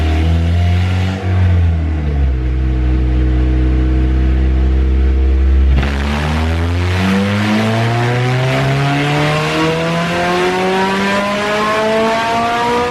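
A Honda Civic EP3 with a K24 engine and twin-loop exhaust revs loudly on a dyno in a steady pull, its pitch dropping, then climbing again in a long sustained rising whine, close and powerful.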